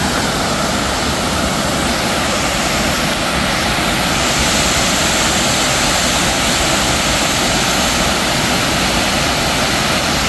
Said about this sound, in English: Is this the big waterfall?